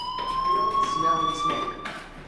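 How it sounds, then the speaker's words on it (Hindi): A fire alarm rings inside the video game Life is Strange, a steady high electronic tone that pulses in loud bursts while a voice talks over it. "क्या तुमको फायर अलार्म सुनाई दे रहा है?"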